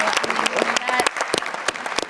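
Audience applause for a woman named Jennifer, loud close claps in an uneven rhythm with a brief voice sounding over them partway through.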